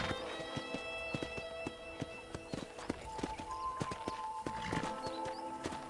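Horse hooves clip-clopping at a steady walking rhythm in Red Dead Redemption, evenly spaced close thuds over a soft background of ambient game sound.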